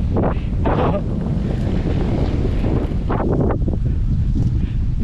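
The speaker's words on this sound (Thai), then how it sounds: "ลมแรงมากดูท้องฟ้ายอดแล้วไม่มีเมฆเลย" Strong wind buffets the microphone during a bike ride on a 73 km road route, a loud continuous low roar with gusty surges throughout and no talking.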